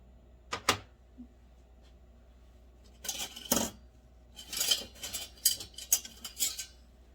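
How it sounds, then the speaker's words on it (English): A spoon handle worked through thick, ricing cold process soap batter for a layered bar: sparse clicks and scraping swirls against the container, separated by quiet gaps, with no one talking. "I like using a spoon handle. and just kind of wave it up there."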